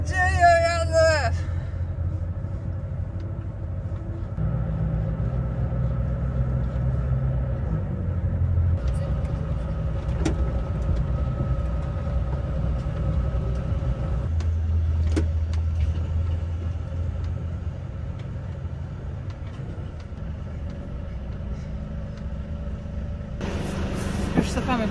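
A car on a gravel road between trees gives a steady low engine rumble that runs throughout, with someone speaking over it and a few faint knocks from the road.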